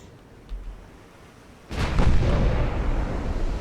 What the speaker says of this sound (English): And now we're starting to hit with the 8-inch guns on the other side.